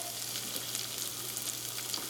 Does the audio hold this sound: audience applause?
no